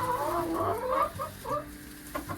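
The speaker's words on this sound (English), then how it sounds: "the chickens made it safely into their new coop last night" Chickens cluck softly nearby, a few overlapping murmuring calls in a quiet setting.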